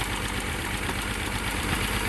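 A lean-running engine idles steadily and loudly up close, with a constant rough drone and a faint knocking pulse throughout, no voices over it.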